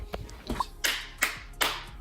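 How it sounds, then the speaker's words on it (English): Three sharp hand claps, evenly spaced and fairly close, in a quiet room to sync two cameras, preceded by a few faint taps and handling noises. "those 3 claps will be easy for the computer to determine where it needs to match these clips together"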